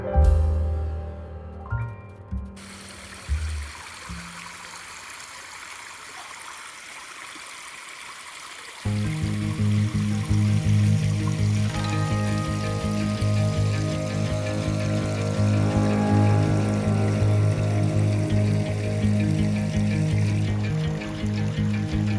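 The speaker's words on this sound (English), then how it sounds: "the only sound you can hear is the water gently washing over the" Water in a forest garden stream washes steadily over rocks, a continuous close rushing and gurgling that follows a few seconds of quieter trickling.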